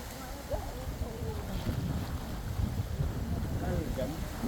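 Constant low rumbling wind buffeting a microphone beside a river, a steady blustery roar with faint voices talking underneath.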